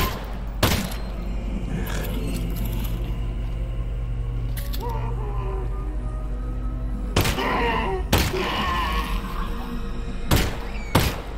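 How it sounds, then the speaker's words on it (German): Several sharp gunshots crack out at irregular intervals over a steady low rumble of game ambience in the VR game Half-Life: Alyx, loud and close. "So viele Schüsse, echt so viele."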